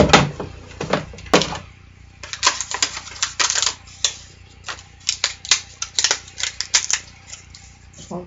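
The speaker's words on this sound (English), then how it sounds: "So I'll crank this through and cut out that first one." A hand-crank die cutting machine feeds card stock through, giving a rapid series of sharp, close clicks and clacks that come in uneven bursts.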